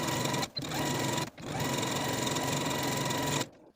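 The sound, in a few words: sewing machine stitching a French seam on a maxi dress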